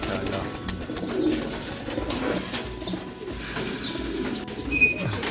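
Pigeons coo softly in low, rolling bursts amid ambient background noise, with a few faint chirps and murmured voices nearby.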